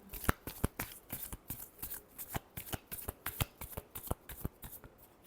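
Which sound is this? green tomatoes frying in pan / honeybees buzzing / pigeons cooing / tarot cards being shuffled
tarot cards being shuffled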